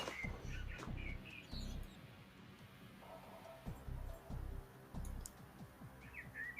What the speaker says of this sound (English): the sound of a bird song in England as the sun rises